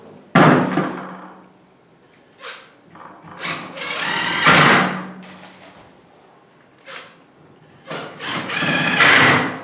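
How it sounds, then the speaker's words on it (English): A power drill drilling pilot holes whirs in several short bursts separated by pauses, close and loud, with a few brief knocks between runs. "Do your second pre-drill on both."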